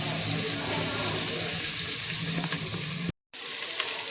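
Onions and other ingredients sizzling steadily as they sauté in a pan for paneer pulao, a continuous bright frying hiss with faint stirring scrapes, broken by a brief silent gap near the end.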